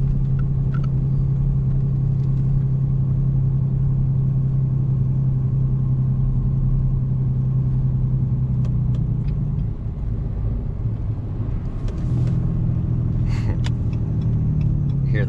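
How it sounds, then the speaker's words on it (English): A 2017 RAM 3500 Cummins diesel pickup towing about 30,000 lbs runs on its exhaust brake, a loud, steady low droning rumble from inside the cab with a slight shift in pitch partway through. "You can hear the exhaust brake."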